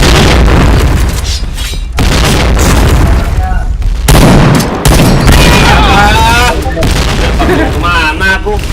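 Grenade blasts and gunfire in the shooter game PointBlank, with booming bursts and crackling shots packed densely through the whole stretch, loud and continuous, while shouting voices overlap the game action.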